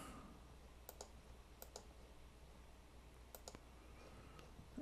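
Several quiet, scattered clicks from a computer keyboard as data is typed, sparse and soft over a steady low hum, with no voices.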